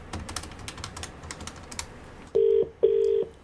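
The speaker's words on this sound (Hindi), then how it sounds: "फोन मिलाओ।" Quiet clicking of keys comes first, then two loud, steady telephone dialing tones of about half a second each sound close, ahead of a radio prank call.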